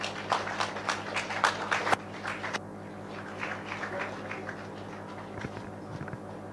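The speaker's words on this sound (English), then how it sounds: "Round of applause." An audience at an awards ceremony claps for the second runner-up, a busy patter of hand claps that thins out after a couple of seconds into scattered, fainter clapping.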